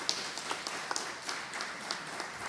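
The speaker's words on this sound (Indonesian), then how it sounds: "Berikan tepuk tangan buat mereka." Moderate congregation applause during a church service, an even wash of clapping with occasional sharper claps, fairly close and without talk on top.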